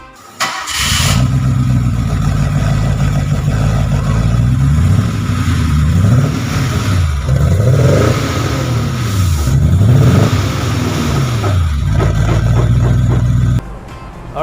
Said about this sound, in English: we have done the exhaust already and the car sounds smooth and deep